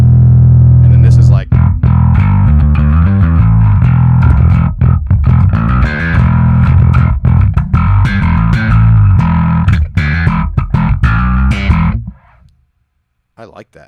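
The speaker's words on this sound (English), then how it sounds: "There's almost no distortion there." An electric guitar played loud through a new distortion effects pedal rings out with dense sustained chords and sharp attacks, then cuts to near silence near the end; speech is mixed in.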